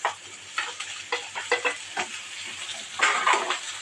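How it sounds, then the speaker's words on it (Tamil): Chopped bottle gourd and green chilli sautéing in a pan sizzle steadily, broken by a series of spatula taps and scraping strokes, close and moderately loud. "இந்த சுரக்காயை ஓரளவுக்கு வதக்கி விட்டுக்கலாம்"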